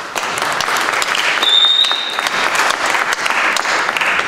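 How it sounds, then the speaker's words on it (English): A standing audience gives itself a round of applause. Many hands clap in a continuous, full roar at steady volume, with a brief high whistle cutting through midway. "I want you to stand to give yourselves a round of applause."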